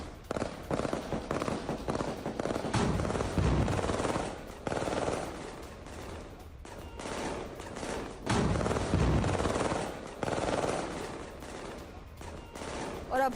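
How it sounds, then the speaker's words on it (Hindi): Heavy gunfire from IDF soldiers in news footage of an attack on Palestinian positions, with dense bursts of automatic fire and loud rattling volleys that come in waves, close and booming, with scattered background noise between bursts. "आईडीएफ सैनिक ने मैनपाट से भारी फायरिंग की और फिलिस्तीनी रेजिमेंट के ठिकानों पर हुए हमले की ये तस्वीर देखिए।"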